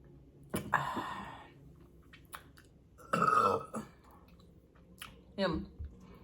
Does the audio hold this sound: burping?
yes